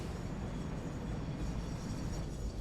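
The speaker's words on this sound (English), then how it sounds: "This train's gonna stop here." A train in the factory-building game Satisfactory gives off a steady, dense mechanical rumble and rushing noise, continuous and fairly loud, with no other sounds standing out.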